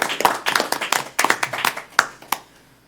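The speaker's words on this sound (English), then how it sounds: "I'll just ask for a round of applause to welcome him to Bismarck." A small group claps to welcome a new director at a Bismarck park district board meeting, a short ragged patter of distinct hand claps that thins out and fades within a few seconds.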